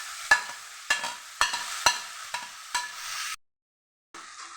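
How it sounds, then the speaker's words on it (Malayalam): Tomato, potato and carrot stirred and frying in a pan, heard as a steady sizzle broken by six or seven sharp scraping strokes of a spoon, ending in a brief silence before the sizzle returns. "ഇനി ഇത് നന്നായി എല്ലാം ഒന്ന് ഇളക്കി കൊടുക്കാം"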